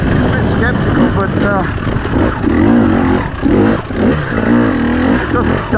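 A 2021 KTM 300 TPI two-stroke motorcycle engine drones and revs steadily throughout, blended with wind and riding noise, with a voice talking over it.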